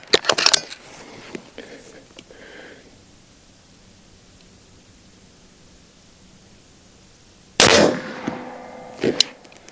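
An AEA Challenger Elite air rifle fires a single sharp, close crack near the end, with handling clicks and rustles earlier and a quiet pause between.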